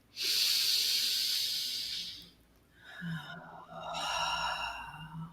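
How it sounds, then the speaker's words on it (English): A person draws a long, deep breath in during a guided breathing exercise, a loud airy hiss lasting about two seconds, followed after a pause by a slower, softer exhale with a faint voiced tone; no talk. "So we're just going to breathe. Take a breath."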